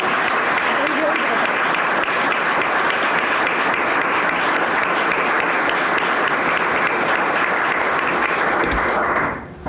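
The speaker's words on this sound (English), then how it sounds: "Let's give our candidates another round of applause." Audience applause for the candidates at the 2024 Shad Derby Gala, dense, steady clapping from a full room that runs nearly ten seconds before cutting off abruptly at the end.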